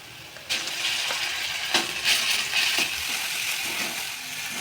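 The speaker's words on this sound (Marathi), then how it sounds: "कांद्याला थोडंसं लालसर परतून घेऊया" Onion frying with ginger-garlic paste and crushed whole coriander in a pan, a soft steady sizzle with scattered clinks and stirring scrapes, fairly quiet and without talk.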